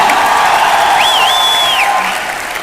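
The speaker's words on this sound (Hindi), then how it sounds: "एक बार जोरदार तालियां" Loud, dense applause from an award-function audience, with a whistle sweeping over the clapping before it begins to fade.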